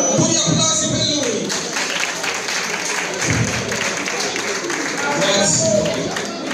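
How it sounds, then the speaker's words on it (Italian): Guests at a birthday party in Sambucheto, Italy clap for a guest in steady, dense applause with crowd murmur underneath, filling the room at close range for several seconds. "Un po' di applausi per lui."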